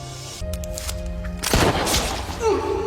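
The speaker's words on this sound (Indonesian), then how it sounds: "Tembakan ini tidak cukup untuk menghentikan Jin yang lanjut menggendong Feng pergi." A sharp gunshot cracks out midway, followed by a ringing tail, amid tense cinematic sound.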